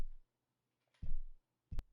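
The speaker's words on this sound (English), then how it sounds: "So the kick before sounds like this." Unprocessed kick drum sample for an alternative indie song, a dull, low, thumpy hit that sounds like tapping a microphone stand, struck three times with uneven spacing, faint and dry with no talk.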